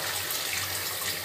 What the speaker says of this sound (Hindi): इसे आप माइक्रोवेव में पानी गर्म कर लीजिए और फिर मैं इसमें डाल देती हूँ